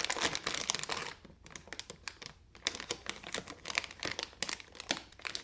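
A Kizer Militaw fixed-blade knife slices through sheets of paper, making a quick series of close, crisp rasping and crinkling cuts with short gaps between strokes.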